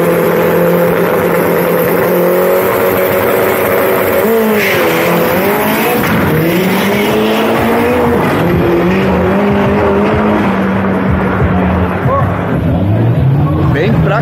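A Chevrolet Chevette race car at a drag strip roars loudly, its engine note rising and falling through revs and gear changes with tire noise, close and continuous throughout.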